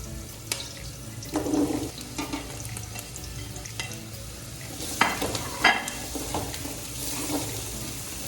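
Rice and carrots frying in a pan give a soft steady sizzle, with intermittent scraping and stirring bursts from a utensil, close and moderately quiet, no voices.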